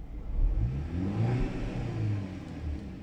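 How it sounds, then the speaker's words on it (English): Car engine revved up to about 4000 RPM and held there, a steady mid-pitched rumbling roar lasting the whole stretch, close and fairly loud with no talking over it. "I'm just gonna accelerate a little bit, just get the RPMs up."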